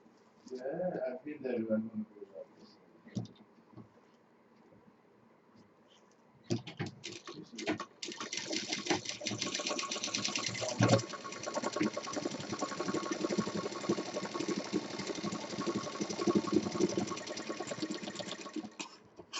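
A sewing machine stitches a handbag, running in a fast, steady mechanical chatter for about twelve seconds after a quieter stretch that begins with a few seconds of talk.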